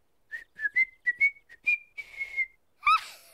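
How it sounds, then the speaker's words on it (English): A cartoon character whistles a short series of high, pure notes, several quick chirps and a sustained tone, ending in a brighter warbled note, clear and close with no other sound. "Me wanna whistle."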